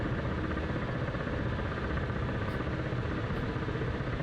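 A Ka-50 Black Shark attack helicopter's engine idles after a cold start in the DCS flight simulator, a steady, even whine and hum held at constant level throughout.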